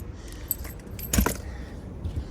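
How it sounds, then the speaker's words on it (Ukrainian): Car keys for a black 2021 Fiat 500e electric hatchback jangle close by in a short metallic burst of clinking, with softer rattles before and after. "Ось тут якісь ключі, ось ключ ще."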